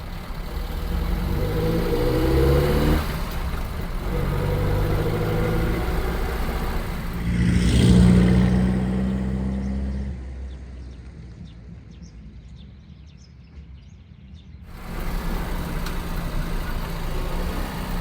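A car rolls over a gentle speed bump at low speed, its engine hum and tire rumble steady and close, then a brief bump and thud around the middle, followed by quieter rolling, with faint birds outside and no talk.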